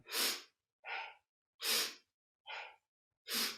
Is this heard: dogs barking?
no